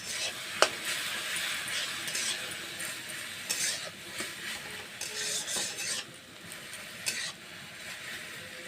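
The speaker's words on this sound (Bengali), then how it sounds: "শুকনো লঙ্কা আর কালো জিরাটা ভাজা হয়ে গেছে ভাজা ভাজা এখন আমি ঝিকাটা দিয়ে দেবো" Ridge gourd sizzling in a pan of hot oil with dried red chilli and black cumin, a steady frying hiss broken by spatula scrapes and clinks as it is stirred.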